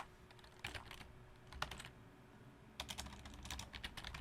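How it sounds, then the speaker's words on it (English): Keys on a computer keyboard clatter in quick, irregular bursts with brief pauses, close and fairly quiet, with no one talking. "I'm going to type this in."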